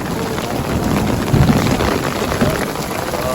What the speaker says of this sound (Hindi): फाइनली हम लोग यूसीसी भी पहुंच चुका है और कुछ ज़्यादा ही बारिश हो रहा है